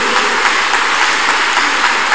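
A church congregation clapping loudly and continuously during a counselling and deliverance service, a dense, steady wall of applause heard up close with no talk over it.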